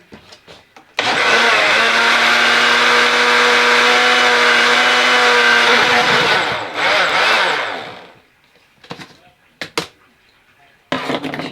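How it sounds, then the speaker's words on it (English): A kitchen blender whirs loudly mixing fishmeal boilie liquid, a steady motor drone for several seconds that winds down, followed by scattered clinks and handling noises. "Get that on the blender."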